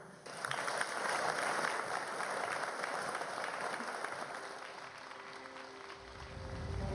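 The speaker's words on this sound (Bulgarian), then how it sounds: "Аплодисменти отново за тях." Sustained crowd applause fills a GERB party campaign-opening rally in Sofia, loud and steady for several seconds before thinning out, with no speech over it.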